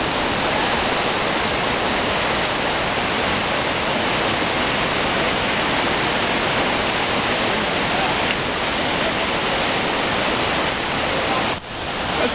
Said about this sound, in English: Let's start off with the water just running over the rocks and pan our way up.